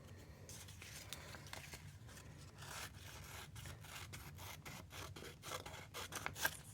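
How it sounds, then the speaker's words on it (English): Scissors snip through paper in a steady series of short, crisp cuts, quiet and close, with faint rustling between snips. "scissors would be helpful"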